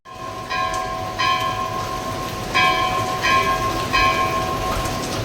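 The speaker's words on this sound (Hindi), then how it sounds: "मंदिर के कपाट खोल दिए गए हैं एवं घंटा ध्वनि लगातार बज रही है।" Temple bells at Badrinath temple during early morning darshan, ringing continuously in bright metallic clangs that come in repeated bursts over a steady loud background din, no speech.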